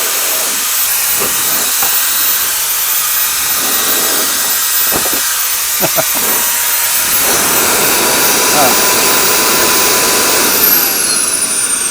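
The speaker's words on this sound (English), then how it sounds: "That is just a ridiculous amount of air coming out of that guy." A strong, loud, continuous rushing hiss of air blasts from an electric compressed-air duster, the SSKYULE RS40 Ultra, held close, with a few short clicks and bumps early on.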